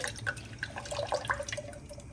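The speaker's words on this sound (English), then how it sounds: "this is water and some corn flour. I'm gonna mix this up" Water and corn flour being stirred together in a kitchen, giving faint liquid drips and light splashing over a soft room hum.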